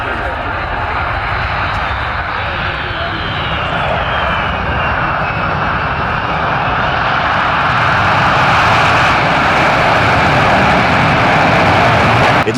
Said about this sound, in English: It looks like the C-17 wanted to add its own sound effect just to make sure nobody took their eyes off the display.